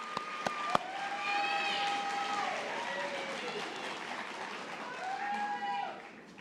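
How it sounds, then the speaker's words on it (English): A nursing convocation audience applauds as graduates receive their pins, a steady wash of clapping with a few sharp claps at the start and cheering voices and whistle-like calls rising over it, fading out near the end. "Let's give them a round of applause as they get their pins, guys."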